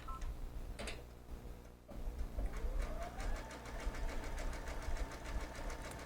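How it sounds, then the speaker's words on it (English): Brother sewing machine stitching down a mending patch, a fast even rapid ticking of the needle running steadily and close after a short pause, with no talk. "I'm going to stitch down"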